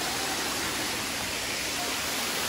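A waterfall on a Bandarban hill trail, running with low water, gives a steady, even rush of broadband spray noise that holds unchanged throughout, close by and with no voices over it.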